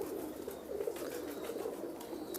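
Soft, low cooing from several Teddy pigeons repeats steadily throughout, a continuous murmuring coo close by, with no talking.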